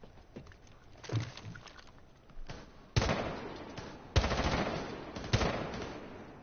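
Video game gunfire, several loud bursts of rapid shots spaced a second or so apart, each trailing off into echo, with softer scattered shots between and no talking.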